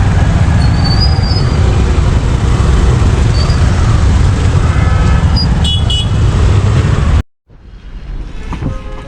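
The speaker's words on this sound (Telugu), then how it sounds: "మొత్తం ట్రాఫిక్ ఉంది." Dense road traffic near Hayath, with a loud continuous roar of engines and tyres, a few faint horn toots, then an abrupt cut to quieter street noise.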